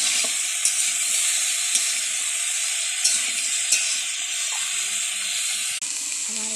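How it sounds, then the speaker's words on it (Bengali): Boiled young jackfruit pieces fry in hot oil in a pan, giving a steady bright sizzle throughout with a few soft clinks, then a brief dip near the end before the frying carries on. "এরপর ওই সেদ্ধ করে রাখা এঁচড়গুলো তেলে দিয়ে দিচ্ছি।"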